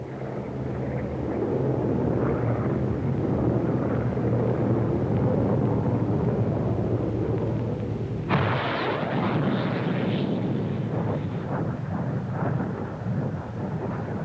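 A Hawker Hunter 66A jet flown by a test pilot in an aerobatic display at the Farnborough air show, a loud continuous roar that swells suddenly into a harsher, brighter blast partway through and stays heavy to the end.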